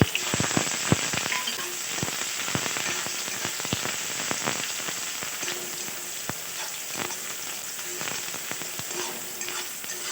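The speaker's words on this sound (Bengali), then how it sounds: "পেঁয়াজটা একটু ভালো করে ভেজে নেব" Chopped onion, garlic and green chili fry in a pan with a loud continuous sizzle, crackling pops and occasional stirring scrapes throughout, close up and without voices.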